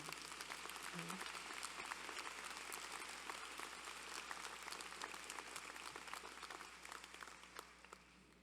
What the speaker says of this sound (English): Give yourselves a round of applause for just